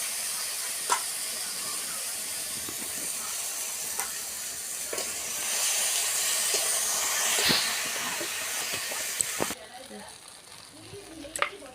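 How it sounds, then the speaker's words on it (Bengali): Ginger and garlic fry with spices in a pan over a clay stove in a village kitchen, giving a steady close hiss and sizzle with a few sharp pops and clinks before the sound drops away. "আদা রসুনটা একসাথে দিয়ে দেওয়া হলো দিয়ে এটাকে খুব ভালো করে মশলার সাথে ভেজে নেওয়া হচ্ছে"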